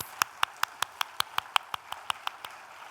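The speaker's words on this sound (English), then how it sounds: "Let's give them a warm round of applause." Sparse clapping at a sustainability conference: crisp, evenly spaced claps at a brisk steady beat that taper slightly in strength toward the end, heard alone against a quiet room.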